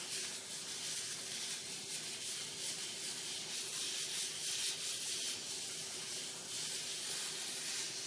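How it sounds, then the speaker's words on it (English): Steady, close abrasive rubbing as pallet wood vase is hand sanded with sanding paste, a continuous bright hiss with a faint low hum underneath, no talk. "Now what you're doing is you're just sanding now. Basically super fine sanding."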